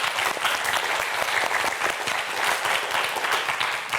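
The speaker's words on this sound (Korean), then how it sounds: "큰 박수 부탁드립니다." Studio audience applauding on a Korean TV science quiz show for students, steady dense clapping filling the whole stretch with no talk over it.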